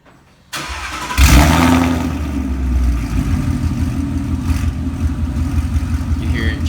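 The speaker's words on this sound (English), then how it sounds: "Now it is on E85, so the startup might not be the best." A car fitted with Texas Speed long tube headers and running on E85 cranks and fires up, then settles into a loud, lumpy, rumbling idle with uneven pulses through the exhaust.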